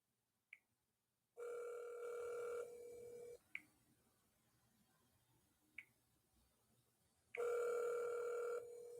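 An outgoing telephone call rings back with two long, loud tones separated by a quiet gap, each ring around two seconds, with faint clicks on the line in between.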